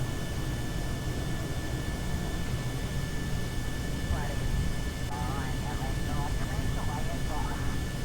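Boeing 747 engines roaring in a steady, dense broadband rush during takeoff in the game Kerbal Space Program, holding loud and unchanging throughout, with a voice faintly talking underneath in the second half.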